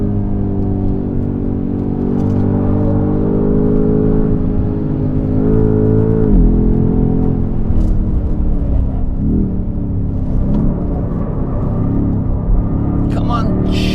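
A BMW G90 M5 on the Nürburgring carries a steady, loud engine drone and tyre rumble throughout, with pitch shifts as the car slows and picks up again, while a driver talks over it.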